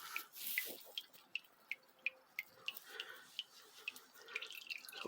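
Hot engine oil drains from a 1979 Chevrolet G10 van into a pan, giving faint, close, irregular drips and plops roughly every third of a second over a quiet background.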